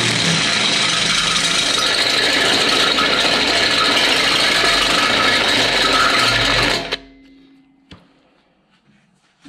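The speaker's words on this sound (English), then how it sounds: "I've got my step bit, a handy dandy item to have." A step bit drilling through metal on a 2013 Bobcat S850 during a rear camera install, a loud steady whining grind for about seven seconds that stops abruptly, followed by a faint click and near silence.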